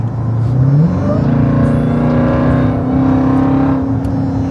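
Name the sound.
Jeep Grand Cherokee Trackhawk driving through traffic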